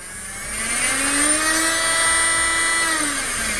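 A cordless sander runs steadily at a chosen speed setting of up to 35,000 rpm, giving a continuous close whine with a slowly rising and falling tone, fairly loud and alone without talk.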